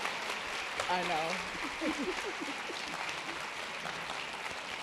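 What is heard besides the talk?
applause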